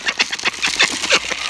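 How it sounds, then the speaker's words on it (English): Ducks quack close by in a rapid, loud series of about a dozen harsh nasal calls that overlap and tumble over one another, with no talking. "Ducks are quackers."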